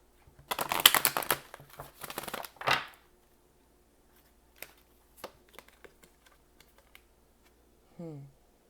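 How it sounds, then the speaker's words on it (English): Fairy tale oracle cards being shuffled by hand, a quick flurry of riffling, papery flicks and taps up close, followed by a few scattered soft clicks and a brief faint voice at the end. "I'm going to do one more shuffle"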